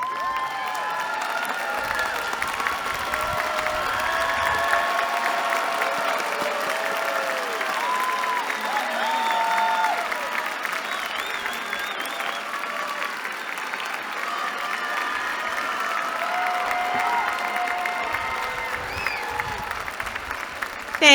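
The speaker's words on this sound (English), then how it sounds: "Let's clap for these graduates." A large commencement crowd applauds graduates with steady, sustained clapping and scattered cheers and whoops, continuing without pause throughout.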